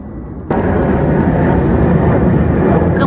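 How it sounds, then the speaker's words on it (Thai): Military training airplanes fly overhead: after a brief quiet moment, a loud, sustained engine roar swells in suddenly and holds steady, close and dominant with no talk. "เครื่องบินเขาฝึก"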